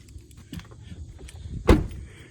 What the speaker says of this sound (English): Let me just close that door.